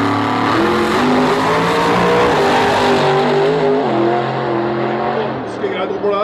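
A loud turbo drag racing car at Gardermoen Raceway roars through rising gear-by-gear engine pitch sweeps, a sustained powerful howl heard under a commentator's voice.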